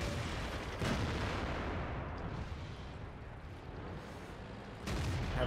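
Tank cannon fire in the World of Tanks video game: two heavy booming blasts several seconds apart, with a broad rumbling roar sustained in between, loud and without speech.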